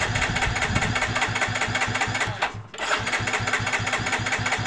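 A Yamaha Mio J automatic scooter with fuel-injection trouble cranks repeatedly, its starter churning in a fast rhythmic chug up close, pausing briefly before cranking again without catching.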